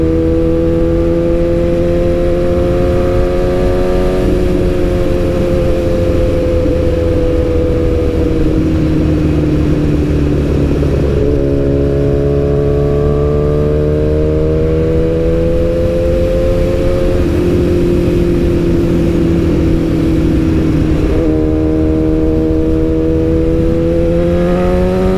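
A BMW S1000RR sport motorcycle runs on a test ride, its engine droning loudly and continuously up close, pitch rising and dropping as it shifts through gears and accelerates.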